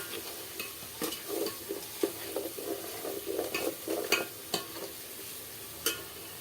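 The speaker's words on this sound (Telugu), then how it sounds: "ఇది కొంచెం పచ్చివాసన పోయేంత వరకు మనం ఫ్రై చేసుకోవాలి." Tamarind fish curry base of korameenu (murrel fish) with chili powder stirred and fried in a pan, soft rhythmic scraping strokes and clinks of a spoon over a gentle, quiet sizzle.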